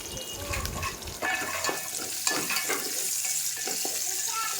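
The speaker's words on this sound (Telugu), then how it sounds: "ఉల్లిగడ్డలు కూడా వేసుకొని అన్నీ కలిపి ఒకసారి తిప్పుకోవాలి" Chillies and onions sizzle and fry in a pan while a spoon stirs them, with steady crackling sizzle and scraping strokes throughout, fairly close and with no talking.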